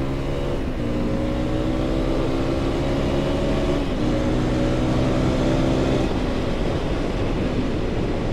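CFMOTO motorcycle engine while riding on-road, a loud, steady roar with rising engine tones that climb and reset across gear changes, heavy wind rush throughout and no voices.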